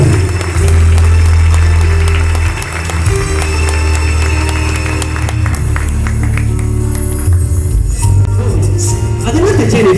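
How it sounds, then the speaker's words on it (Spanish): Audience applause welcoming a pageant candidate at a local beauty queen presentation, a broad wash of clapping and crowd noise over amplified music and background chatter. "Por favor, un fuerte aplauso para darle la bienvenida."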